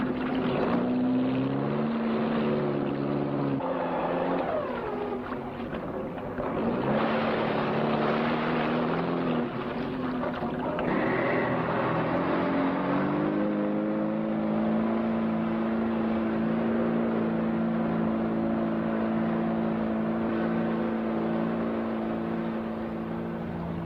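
A steady engine drone with a low rumbling hum runs throughout, loud and continuous, like a motorboat idling and revving.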